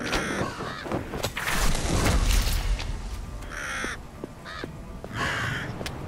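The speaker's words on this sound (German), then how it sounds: "Blöden Raben, ey." Ravens cawing in the video game Vikings - Wolves of Midgard, several harsh caws in short bursts over busy game sounds and rumbling effects.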